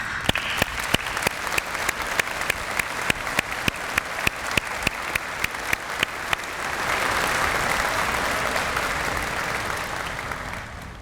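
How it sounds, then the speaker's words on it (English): An audience at a university science convocation applauds the graduating students, sharp close claps at first, then building into a dense, steady wave of applause from a large crowd that fades slightly at the end. "I think all of us, we owe them a big round of applause."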